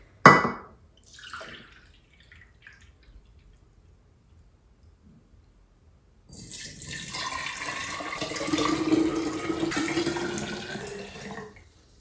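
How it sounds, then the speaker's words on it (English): Vinegar is poured for a homemade natural cleaning product, first in a few faint drips and splashes, then after a quiet gap as a steady, trickling liquid stream lasting several seconds. "So for this recipe, we are going to do 4 cups of vinegar."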